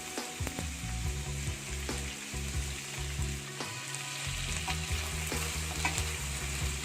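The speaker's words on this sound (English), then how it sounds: "Oil is hot, let us add little bit of salt to it and we will add the boiled mutton pieces. We need to fry them well" Boiled mutton pieces frying in hot salted oil for a Peshawari karahi, a steady loud sizzle with stirring and clanks of a spatula against the pan.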